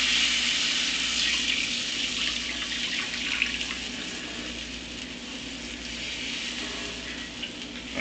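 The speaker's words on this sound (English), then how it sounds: "And then we're going to take and deglaze the pan" Wine poured into a hot chicken pan for deglazing, giving a steady hissing sizzle with splashy liquid texture that stays fairly even and moderately loud throughout, no voices.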